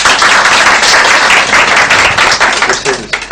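Loud, close clapping from a small group in a room, a dense burst of hand claps filling the whole moment with some voices mixed in.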